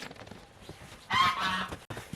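A goose gives a short burst of loud, nasal honking in the middle, preceded and followed by quieter rustling and scattered background noises.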